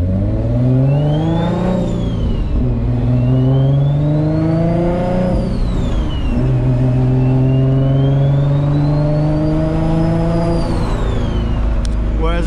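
Turbocharged Infiniti G35 coupe, tuned to about 883 wheel horsepower, revving hard and loud with rising and falling engine sweeps, a high turbo whine gliding over the top and a voice speaking briefly beneath.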